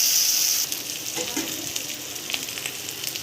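Green chillies roasting in a pan, a constant close sizzle and hiss with faint stirring scrapes, louder at first and then settling.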